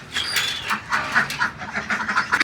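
Ducks quack in a rapid, overlapping series at close range as they are let out to join an existing flock at a mini zoo, with no talk over them.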